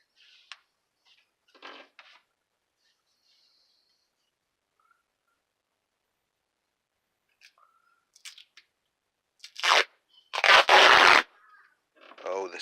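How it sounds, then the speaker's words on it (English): Sporadic ripping of duct tape being wrapped around a foam boffer sword, short tearing bursts scattered across quiet stretches, ending in a loud, longer pull close by. "Oh, the sound of duct tape."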